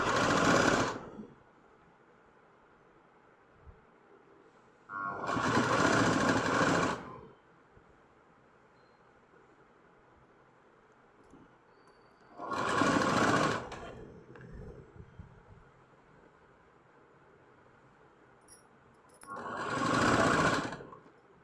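Stitching thread piping around a blouse neck with a single presser foot, a sewing machine runs in four short, loud bursts of fast whirring, each followed by a long quiet pause.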